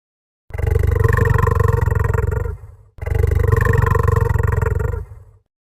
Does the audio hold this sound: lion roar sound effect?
yes